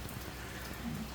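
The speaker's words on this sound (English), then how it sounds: "it has been raining for over 24 hours straight" Heavy rain pours down in Central Texas, a dense, steady hiss of drops striking surfaces close by, with no voices.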